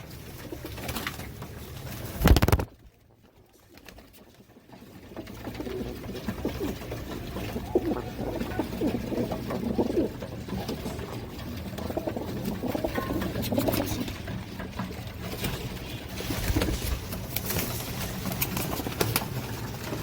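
Pigeons coo continuously in a loft or coop, a dense low murmuring of overlapping calls after a brief sharp knock and a moment of quiet near the start.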